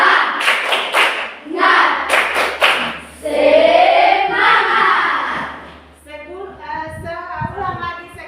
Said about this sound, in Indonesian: kita menyanyi lagu Tepuk Semangat